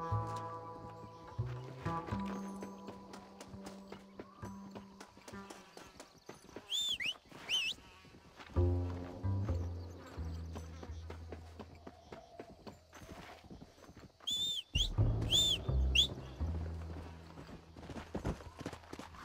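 Horse hooves clip-clop at a walk in the Red Dead Redemption game, steady irregular thuds under a musical score with bright melodic swells, occasional creaks and brief voices, fairly quiet overall.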